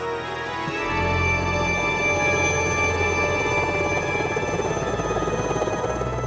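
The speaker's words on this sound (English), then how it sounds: "A rescue helicopter is called in from Zermatt," A rescue helicopter arriving from Zermatt, Switzerland, its rotor and turbine building to a steady, loud drone with a continuous whine that holds for several seconds.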